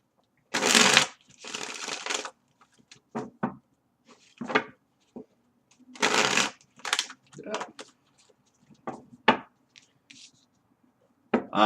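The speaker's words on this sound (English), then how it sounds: "I'll shuffle these ones too once for you on deck." Tarot cards riffle and slap together in bursts close by, with pauses and smaller taps and rustles as the deck is handled and squared.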